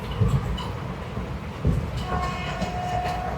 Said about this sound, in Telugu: మనోడు వచ్చిందిగా ట్రైన్